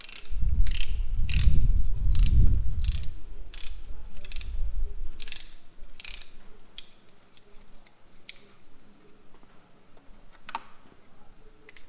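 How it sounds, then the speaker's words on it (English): A piston ring compressor is tightened around an oiled piston during a Nissan R31 engine bottom-end assembly, making quick ratcheting clicks over heavy, close thumps for the first few seconds, followed by scattered lighter clicks and handling noises. "Then you get your ring compressor. He goes on like so. Tighten him up."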